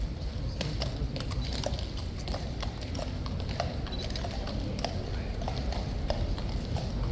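Hooves of King's Guard horses clip-clop in a steady, repeated rhythm at close range, sharp knocks over a constant low street rumble without speech.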